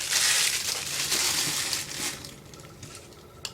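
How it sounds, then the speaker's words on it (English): Cellophane wrapping on diamond painting canvases crinkles loudly and continuously up close, crackling densely at first then thinning into scattered soft rustles. "Sorry about the crinkle noises."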